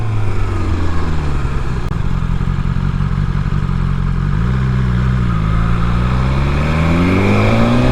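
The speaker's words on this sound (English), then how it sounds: "It's a proper quick sporty bike this now." A 2020 BMW S1000XR sport motorcycle is ridden at speed, its engine droning loud and steady throughout with harmonics rising and falling as the rider shifts and accelerates, plus constant wind and road rumble and no talk.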